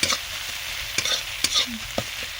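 Prawns fry in a pan with a constant crackling sizzle, punctuated by sharp scraping knocks of a spatula stirring them at roughly half-second intervals.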